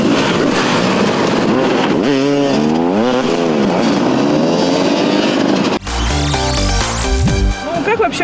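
Motorcycle engines rev and whine up and down in pitch, loud and close, while voices talk over them, followed by a sudden shift to choppier engine noise near the end.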